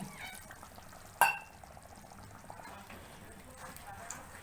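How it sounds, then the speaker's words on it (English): Water is poured into a cooking pot of simmering tomatoes for egg noodles, a faint trickle with one sharp clink near the start and a low kitchen background. "Add a little more water."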